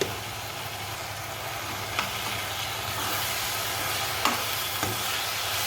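Tomato and onion fry in a pan as chili powder is stirred through them, giving a steady close sizzle with a few scraping clicks from the utensil.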